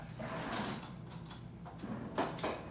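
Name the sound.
kitchen drawer opening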